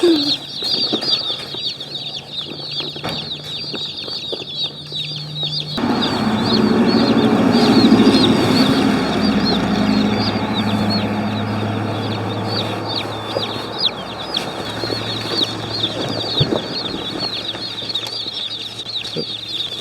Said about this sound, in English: I'm sure post office people will be relieved once we get the chicks, because they can get quite loud.